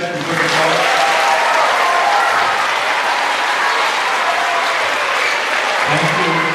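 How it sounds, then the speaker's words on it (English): An audience at a school faith performance claps for the backstage tech crew, dense sustained applause filling the room, loud and continuous, with faint voices mixed underneath. "Can you guys give those guys some good applause?"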